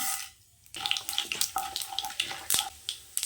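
Mustard seeds, chana dal and urad dal dropped into hot oil, a close crackling sizzle with sharp pops and spatters bursting irregularly after a brief quiet start, no voices.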